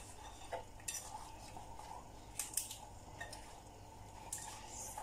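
Thick jalebi batter being scraped and mixed in a bowl, quiet irregular scraping and stirring strokes with occasional sharper clicks of the utensil against the bowl.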